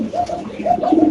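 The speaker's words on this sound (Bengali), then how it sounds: "এখানে থাকবে এক জোড়া ব্ল্যাক মুন্ডিয়ান কবুতর" A pair of black Mundian pigeons coo in short throaty warbles at a pigeon farm, close and fairly loud, with some other noise around them.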